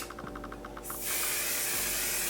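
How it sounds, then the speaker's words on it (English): A single long burst of travel-size makeup setting spray hissing loudly and steadily for over a second, close up, after a few soft clicks. "so I'm going to set the entire look"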